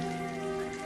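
Rain falls steadily on a muddy monsoon-season field, a soft, continuous patter that stays even and close for about a second.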